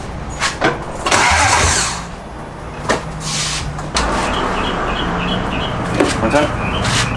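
Toyota 1UZ V8 engine fitted in a Nissan S14 cranking and firing up for the first time, with bursts of revving and a rough idle, loud and close, with people talking nearby.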